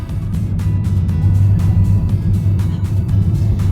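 Car driving around on a New Year's holiday outing, heard from inside as a loud steady road rumble and engine hum with faint ticking, and no one talking.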